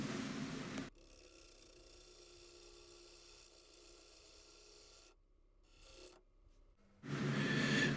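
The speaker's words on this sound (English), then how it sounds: "I'm taking a truing cut along the outer edge of the blank just to true it up" A wood lathe takes a truing cut along the outer edge of a spinning bowl blank, a steady close rasping scrape that runs for several seconds, dips quieter, then returns louder and rougher at the end.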